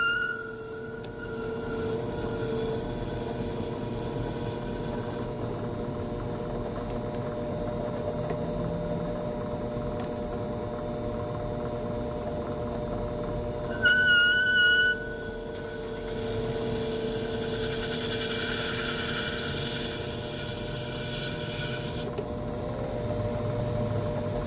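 A lathe turning Delrin plastic with a butter knife as the cutting tool: a steady, close motor whine with tonal hum running throughout, shifting briefly as the cut changes, with a short rattling burst midway.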